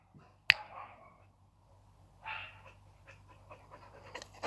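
A dog pants nearby in a garden in short breathy bursts, with a sharp snap-like click near the start and light rustling throughout.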